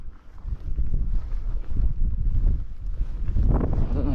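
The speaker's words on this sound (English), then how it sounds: "I don't know if you can hear that on the mic, it's quite windy still up here." Gusty wind sweeps across a vast, high mountain plateau, buffeting the microphone with loud, rumbling low roars that surge and fade continuously throughout.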